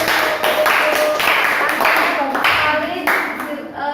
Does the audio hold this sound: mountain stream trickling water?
no